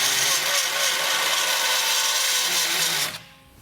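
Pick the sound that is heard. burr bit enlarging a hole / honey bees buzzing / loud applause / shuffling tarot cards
burr bit enlarging a hole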